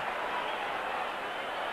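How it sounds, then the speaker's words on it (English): A steady, distant roar from a football crowd at a 1989 South Australian Australian rules match between Glenelg and Port, a constant hum with no distinct peaks. "Listen to the crowd."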